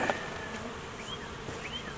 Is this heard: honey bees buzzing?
yes